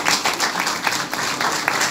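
An audience claps at a congress speech, a dense, steady patter of many hands filling the space close and fairly loud, with no voice over it.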